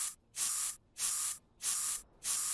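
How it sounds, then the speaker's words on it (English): Four sharp hissing bursts of spray in an even rhythm, each lasting about half a second with short silent gaps, as a Polish sabre is sprayed down in the Workshop Simulator video game. "I will spray this thing down"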